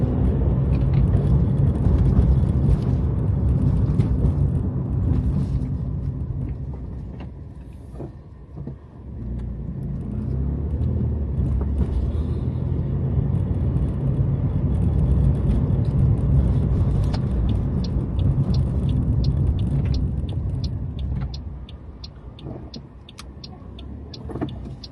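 Car driving along roads in Blackpool, a steady low engine and road rumble that swells and dips as it moves through town, with no talk over it.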